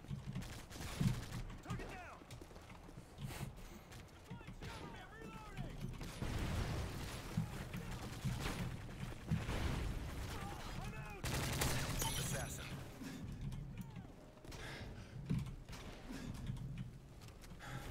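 Gunfire in the video game Call of Duty: Modern Warfare 2, scattered shots and bursts mixed with game effects over a noisy, busy background, fairly faint throughout with a voice talking at times.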